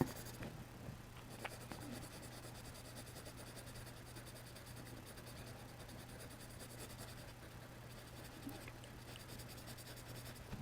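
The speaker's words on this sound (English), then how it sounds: "Don't forget to turn your pencil" Soft, continuous scratchy strokes of a colored pencil on paper, steady and faint, with a low electrical hum underneath and occasional small taps.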